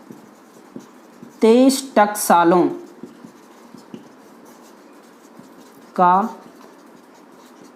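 Marker or chalk scratches across a board during a Hindi history lecture, with soft, steady strokes running through the clip while someone speaks in short bursts over them.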